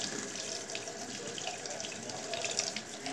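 Tap water runs steadily into a sink while an apple is washed, a close, continuous hiss and splash with no talking.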